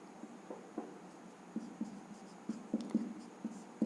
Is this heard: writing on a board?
yes